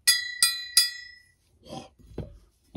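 A VG-10 steel knife blade is tapped three times in quick succession, each strike giving a bright, sustained metallic ring that decays, followed by some soft handling noises.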